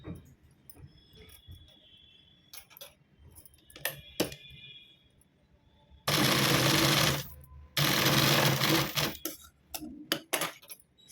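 Cloth for a blouse latkan is stitched on a sewing machine in two loud, close, rapid bursts after a run of light clinks and handling noises.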